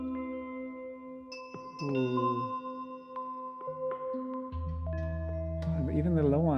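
A free sound-healing software instrument on its 'Blooming' preset holds single sustained notes. Shimmering, slowly moving textures swell around each note, and a deep low drone enters partway through. The tones are smooth, layered and continuous, with no voices.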